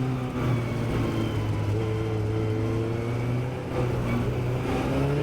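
Formula Ford race car engine at Summit Point Motorsports Park, a loud, steady droning note held close throughout with only a brief dip near the end.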